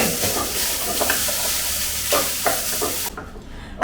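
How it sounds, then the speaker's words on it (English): Minced pork for Sichuan glass noodles sizzles loudly in a wok while being stir-fried, a dense crackling hiss with periodic scraping bursts from stirring before the frying sound cuts out abruptly near the end. "the sizzling sound of the pork during stir frying"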